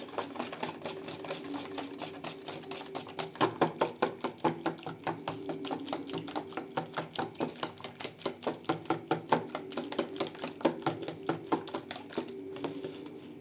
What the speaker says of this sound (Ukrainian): І все перемішуємо. Гарно перемішати до однорідності.